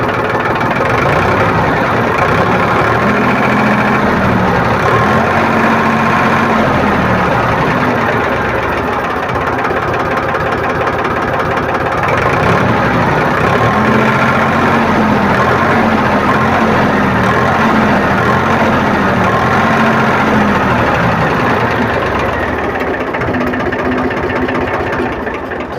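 A Powertrac tractor's diesel engine idles at about 500 rpm, a loud, steady, close mechanical chug with a regular knocking rhythm throughout and no talking.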